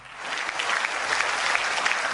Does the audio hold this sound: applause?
yes